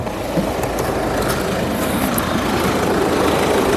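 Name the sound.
Tata Harrier XZA Plus engine running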